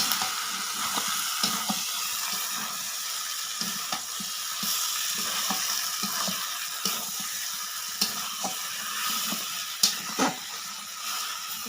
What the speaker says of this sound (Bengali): একটু ভেজে নেব মাংসের সাথে